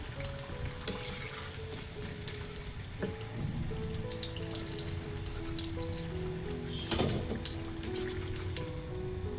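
Potato pieces fry steadily in a pan for crispy aloo, a dense continuous sizzle and crackle with scattered pops, loud and close throughout with no talking.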